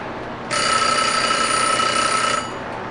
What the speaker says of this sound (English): now the alarm's done that